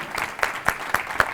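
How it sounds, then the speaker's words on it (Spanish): A conference audience gives a modest round of applause to welcome a speaker onto the stage, with scattered, uneven claps that are fairly soft and carry no speech. "Le damos la bienvenida a Mamen Antón con un fuerte aplauso"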